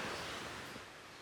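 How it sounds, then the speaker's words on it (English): A small stream running beside a stone walking path near Sojeongbang waterfall on Jeju, South Korea, heard as a soft, steady, faint wash of flowing water with no voices. "Just this nice little stream."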